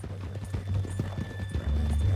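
Horse hooves clip-clop at a steady walking pace in the Western video game Red Dead Redemption, with a rider tied up on the way to Saint Denis; the rhythmic thuds stay close and continuous.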